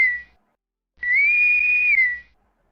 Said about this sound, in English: And it is a Star Trek whistle.